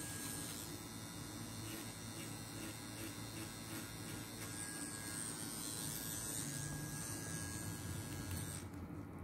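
An affordable wireless tattoo pen runs steadily, giving a close, even electric buzz with a faint hum that holds unchanged throughout, alone without talk.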